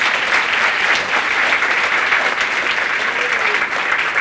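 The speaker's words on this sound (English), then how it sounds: "give a shout out and an applause for all the parents" Applause for parents at a 50th-anniversary celebration event, a large audience clapping steadily and loudly without a break, dense and sustained.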